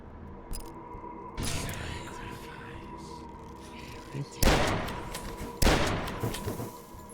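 Hunting rifle shots in the retro shooter Dusk, a few heavy, sharp blasts spaced seconds apart over a steady droning game background, with someone talking.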